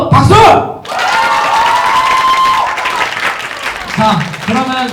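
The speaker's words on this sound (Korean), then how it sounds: "그렇다면 한 번 더 박수!" An audience at a book concert with author Kim Dong-sik bursts into a round of clapping and light cheering that swells and holds, with a host's voice speaking over the start and returning near the end.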